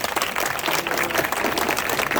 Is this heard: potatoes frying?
no